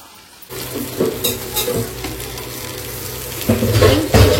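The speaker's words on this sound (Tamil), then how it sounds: "மீன் வறுக்க ஸ்டார்ட் பண்ணியாச்சு." Fish frying in a pan at home gives a steady close sizzle throughout, with stirring scrapes and louder crackling bursts toward the end.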